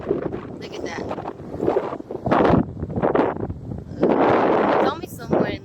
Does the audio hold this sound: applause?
no